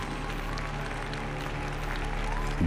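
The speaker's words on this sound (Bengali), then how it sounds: "সবাই একসাথে হাততালি দিয়ে উঠল" Sustained applause from a group in a laboratory setting, a steady even clatter of clapping with no break, played as an audio drama effect.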